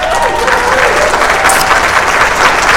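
Applause sound effect played on a sports radio talk show, a loud steady burst of crowd clapping lasting a few seconds, with a faint voice in the mix.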